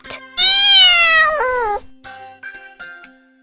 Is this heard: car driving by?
no